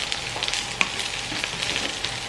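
Vegetables for a vegan gumbo sizzle and brown steadily in a pan, a constant close, hissing fry with a faint stir or tap.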